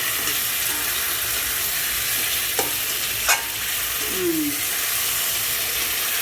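Chicken frying in a pan for homemade pulao with salt, green chilli and ginger paste, a loud continuous sizzle throughout, with a few scraping clinks of the spatula and no talking.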